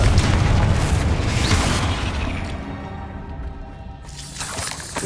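A booming blast from the Confringo fire spell in the Hogwarts Legacy video game, a loud dense rumble that slowly fades over several seconds, followed by a softer swell near the end.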